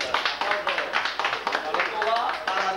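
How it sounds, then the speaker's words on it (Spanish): Crowd clapping at a 1992 town patron-saint festival in Blondet, Guayama, near a neighborhood colmado: a dense, steady patter of many hands that runs the whole time, mixed with chatter and voices. "Aplausos."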